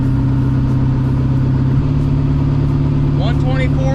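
A car engine hums steadily from inside the vehicle on a hot day as driving begins, a loud close drone with a pitch shift partway through, and someone talks briefly near the end.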